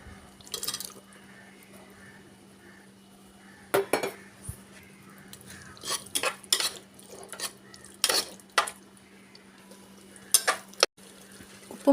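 Fried prawns tipped into yogurt-mixed biryani in a pressure cooker and stirred: a metal spoon clinks and scrapes against the pot in irregular bursts, with wet mixing sounds between, close up and with no speech.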